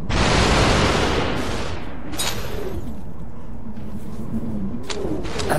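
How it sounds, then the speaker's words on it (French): Simultaneous gunshots from two guns in the VR shooter SUPERHOT VR, a loud burst at the start and then sharp separate shots over a steady game background, with no talking. "Regardez, je vais tirer des 2 côtés à la fois."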